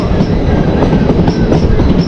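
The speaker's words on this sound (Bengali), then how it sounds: "ফাইনালি ইন্টারসিটি যে এক্সপ্রেস রয়েছে যেটা আলিপুর থেকে শিলিগুড়ি পর্যন্ত যাবে সেই ট্রেন গেল" An Intercity Express running from Alipurduar to Siliguri passes through Hamiltonganj station, its loud, steady rumble and clatter of wheels on rails filling the whole stretch close by, with no voices.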